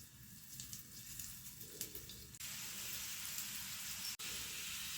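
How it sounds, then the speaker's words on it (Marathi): Yam slices fry in oil, a soft sizzling hiss that swells suddenly midway and holds steady, then breaks for a brief moment with a sharp click before carrying on. "आता एक एक काप आपण ह्याच्यात बुडवूया आणि फ्राय करून घेऊया"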